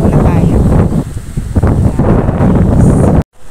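Strong wind buffets the microphone in a steady low roar, with gusty rumbling throughout and a brief cutoff near the end.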